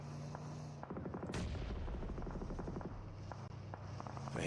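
Gunfire in the mobile battle royale game BGMI, with rapid bursts of shots and sharp cracks over a steady background hum, fairly faint and continuous throughout.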